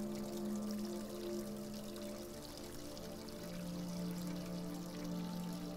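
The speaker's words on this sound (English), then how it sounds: "Use warm tap water." Warm tap water runs steadily from a faucet in a video game bathroom, a continuous pouring stream heard alone against a tonal background hum throughout.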